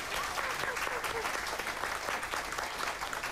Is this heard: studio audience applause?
yes